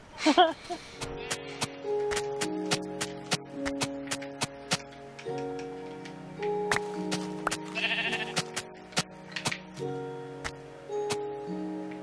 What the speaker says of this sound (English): Oh look, a rare black sheep.